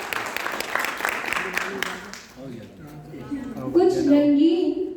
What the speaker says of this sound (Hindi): जोरदार तालियां आदिल कफील के लिए